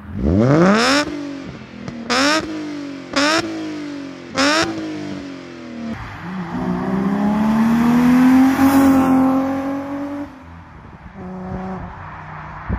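A BMW E36/E46 engine fitted with a stainless 6-2-1 equal-length exhaust manifold gives four sharp, close throttle blips, then one long rev that climbs and falls back toward idle.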